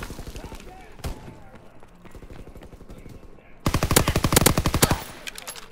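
Gunfire in a first-person shooter video game: rapid machine-gun bursts, lighter and sparse at first, then a loud sustained burst near the end, with a voice talking in places.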